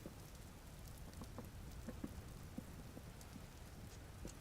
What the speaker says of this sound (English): I mean, it doesn't sound like it's going to be bad of a storm.